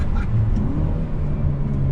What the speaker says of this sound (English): That's just constant backfire